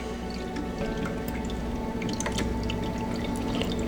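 Water poured into an indoor plant pot, a continuous trickling and dripping with small splashes as the level rises, close and fairly steady.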